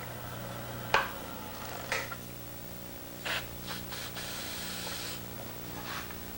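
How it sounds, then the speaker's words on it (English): Spray shellac hisses from an aerosol can in short, quiet bursts during woodturning work on threaded lids, with a few faint clicks and rustles between sprays. "This is a spray shellac."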